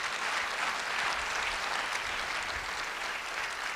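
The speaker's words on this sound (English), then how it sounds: "let's give a round of applause for all of our students in the room" An audience at a school safety forum applauding students, steady sustained clapping from a roomful of people throughout, even in loudness, with no talking over it.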